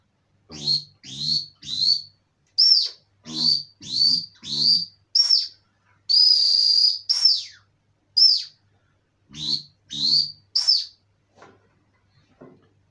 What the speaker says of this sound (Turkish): Revka çulluk çağrı düdüğü.